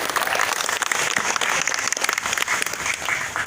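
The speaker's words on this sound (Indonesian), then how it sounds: "Sekali lagi tepuk tangan untuk media dan teman-teman wartawan." A crowd applauds at a press gathering honoring media and journalists, a loud, dense, sustained wash of clapping with occasional sharper individual claps, unbroken throughout.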